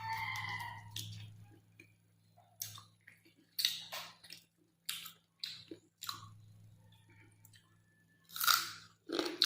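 Close, wet chewing and crunching of spicy duck curry with rice, bursts of bites and mastication separated by short pauses, no talking.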